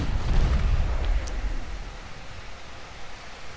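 Heavy battleship shell hits in the Ultimate Admiral Dreadnoughts naval game: a deep, rumbling explosive boom up front that rolls into a long, low rumble and then fades gradually.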